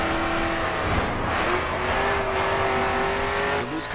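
Race car engine in the GRID 2 video game, a continuous loud, high engine drone holding steady with slight pitch changes, filling the whole stretch without talk.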